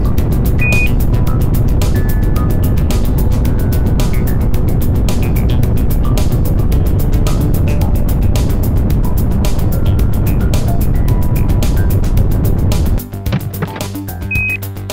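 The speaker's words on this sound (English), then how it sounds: "engine start, booster ignition and liftoff" A rocket lifts off in the SpaceAgency video game, its engine giving a loud, continuous rumbling roar that cuts off abruptly near the end.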